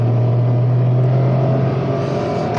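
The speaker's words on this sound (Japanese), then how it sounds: "今アクセルベタ踏みですね。" A kei camper van's small engine drones loud and steady at full throttle while merging onto an expressway, a strained constant hum heard from inside the cabin.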